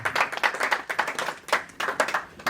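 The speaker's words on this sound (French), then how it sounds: "Clap your hands for Jesus." A church congregation at ICGC Paris claps along in steady, lively rhythm, many hands together, loud and close with no pauses.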